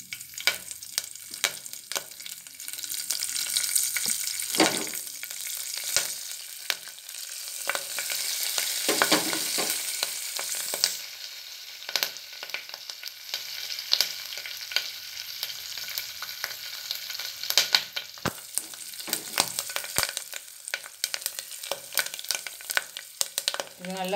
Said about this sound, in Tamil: எடுத்து வச்சுருக்கிற கடுகு, பெருங்காயத்தூள், கருவேப்பிலை மூணும் போட்டுக்கலாம். இது பொரியட்டும்.